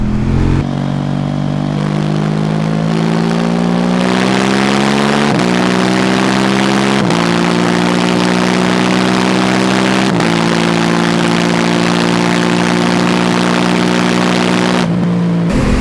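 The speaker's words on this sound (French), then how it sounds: "Je vais vous laisser avec le son de l'échappement." A KTM 790 Duke motorcycle exhaust rumbles loud and close for the whole stretch, holding a steady idle-like drone with several rises and dips in revs, cutting off near the end.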